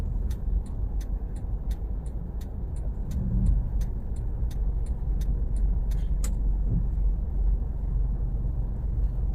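Stop-and-go traffic jam on the Jakarta-Tangerang toll road: a steady, close rumble of idling and crawling engines with a regular light ticking over it, no voices.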